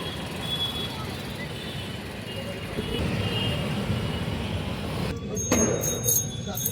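Evening road traffic passes near a park as a steady, moderately distant rumble, with a sharp handling noise near the end.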